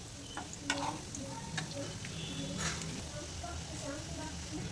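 Shami kebabs fry gently in a pan over low-medium flame, a quiet even sizzle with occasional soft ticks and spatter pops, faint and close, while a voice talks over it at low level.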